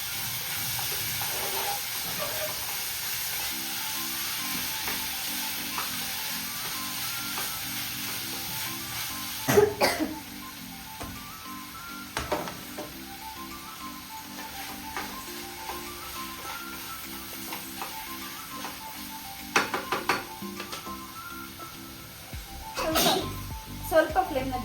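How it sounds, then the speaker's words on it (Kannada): Tomato, capsicum and mixed vegetables fry in a pan, giving a steady sizzle with occasional louder stirring scrapes and clatters, while a person talks quietly over it. "ನೆಕ್ಸ್ಟ್ ಟೊಮ್ಯಾಟೊ ಮತ್ತು ಕ್ಯಾಪ್ಸಿಕಮ್ ಹಾಕ್ಕೊಂಡು"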